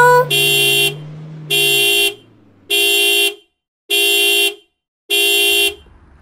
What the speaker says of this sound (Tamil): வீட்டு முன்னாடி கார் ஹாரன் சத்தம் இப்படி கேக்குது.